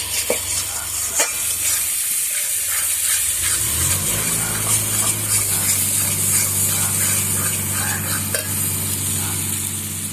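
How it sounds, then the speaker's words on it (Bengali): Spice masala for a yogurt chicken curry being stir-fried in a pan: a continuous sizzle and hiss with scraping stirs, steady and close, rising as frying intensifies partway through. "এবার মশলাটা খুব ভালো করে কষাতে হবে। মশলা যেন নিচে না লেগে যায়।"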